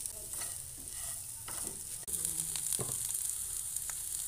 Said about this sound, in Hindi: हम इसे इस तरीके से मिक्स करते हुए चार पाँच मिनट तक भून लेंगे